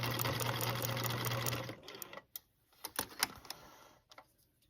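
Sewing machine stitching small curves on a Le Cirque quilt, running in a steady fast whir for under two seconds, then stopping, followed by scattered clicks and light handling sounds.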